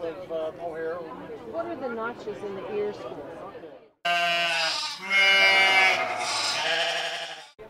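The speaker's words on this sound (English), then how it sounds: "And here are a couple of gorgeous angora goats." Angora goats bleating in wavering, nasal cries at a sheep and fiber festival in Lexington, Kentucky, first a softer run of calls and then louder, brighter bleats close by, with background chatter.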